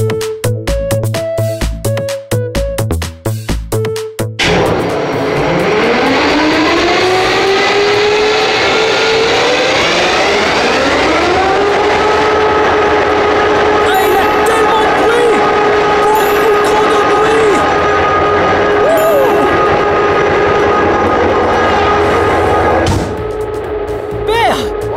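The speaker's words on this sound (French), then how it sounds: "Il y a beaucoup de bruit quand on démarre le moteur." A locomotive diesel engine cranks and starts up, rising into a loud, steady roar that holds for most of the stretch before cutting off near the end, with a voice briefly audible at the start.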